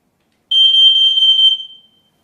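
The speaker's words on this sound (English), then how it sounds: "It can be tested by pressing the button here." A smoke alarm test beep: a single high-pitched electronic alarm tone, loud and steady for about a second before fading out, with silence around it.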